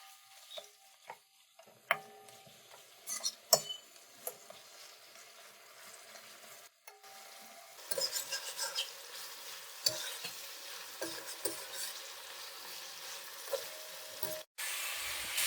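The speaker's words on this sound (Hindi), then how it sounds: "लहसुन के अंदर हम इसको अच्छे से फ्राई कर लेंगे" Half a kilo of mutton fries in garlic in a karahi, giving a steady sizzle with frequent clinks and scrapes of stirring, growing louder and denser partway through.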